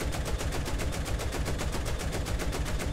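Rapid, evenly spaced bursts of automatic fire run loud and continuous in a War Thunder tank battle, a steady machine-gun-like rattle with no voices.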